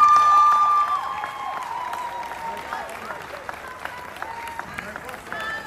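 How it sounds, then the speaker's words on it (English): A crowd at a Nigerian film event applauds, a soft, diffuse wash of clapping and murmur sitting under louder voices and music, heaviest at the start then settling lower. "Can we clap for her, please?"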